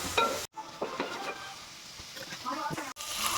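Capsicum sautéed in a pan after ginger-garlic paste, soft sizzling broken by utensil scrapes and clinks, close but fairly quiet, with two brief drops to near silence.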